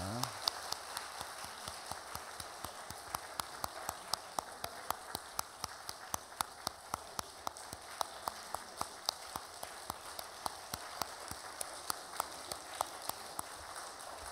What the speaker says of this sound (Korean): 꽃다발 줄 때도 계속 박수 좀 쳐주시면 좋겠습니다